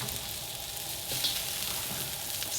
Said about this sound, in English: my pan is heated up. I'm doing a stir fry